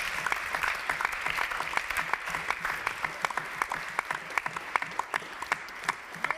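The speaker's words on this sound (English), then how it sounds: "Wamek, big applause for you." A crowd at a startup competition grand final applauds the second prize winner, a battery security company, with steady clapping and sharp individual claps standing out near the front throughout.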